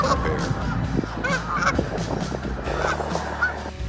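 Wild geese honking, a dense flock calling over one another in loud, overlapping honks with constant chatter close by.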